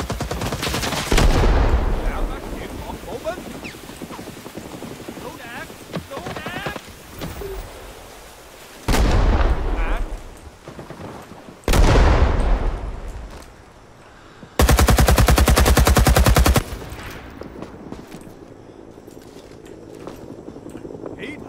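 Rapid automatic gunfire rattles through a Rising Storm 2: Vietnam firefight in several loud, separate bursts, with quieter shots and battle noise filling the gaps and some voices underneath.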